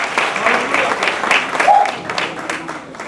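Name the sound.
audience applause for a pastor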